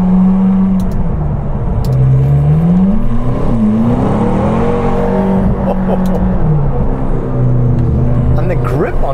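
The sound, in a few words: McLaren Grand Tourer twin-turbo engine accelerating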